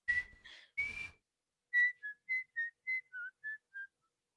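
A person whistles a short tune: a few sliding notes, a brief pause, then a run of about eight crisp separate notes, clear and close with no other sound.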